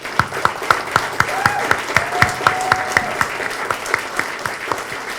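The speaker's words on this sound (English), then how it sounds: "give a very warm round of applause to Dan Lok" An audience claps for Dan Lok in a series of sharp, fairly evenly spaced claps, about four per second. The applause is close and moderately loud, with no talking over it.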